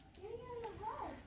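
A short, wavering dog whine rises and falls, a plaintive unhappy vocalization, faint and close, lasting about a second.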